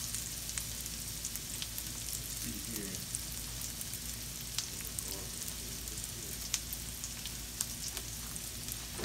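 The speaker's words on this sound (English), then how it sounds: "nothing smells better when bacon and onions sauteing together" Bacon and onions sautéing together in a pan for old-school green beans, a steady quiet sizzle and crackle with scattered pops throughout, no talking.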